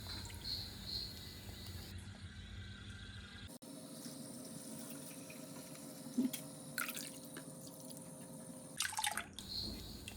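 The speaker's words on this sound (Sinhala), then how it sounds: "ඊට පස්සේ වතුර භාජනයක් පුරවලා මැටි වළඳ පැය 24ක් ගිල්වලා තියන්න ඕනි." Water runs and drips into a vessel being filled to soak clay cooking pots, a faint trickling that stops briefly partway and resumes with a few louder splashes, with no talk.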